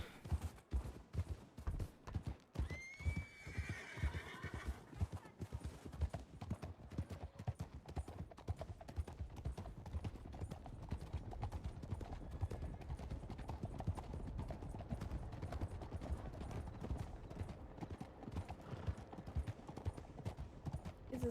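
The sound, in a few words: horse clip-clopping and neighing in Red Dead roleplay video game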